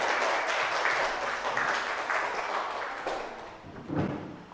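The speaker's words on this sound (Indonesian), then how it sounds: "Tepuk tangan untuk kelompok 3." A classroom of students claps for a winning group, a fairly quiet burst of applause that gradually fades, ending with a couple of soft thumps.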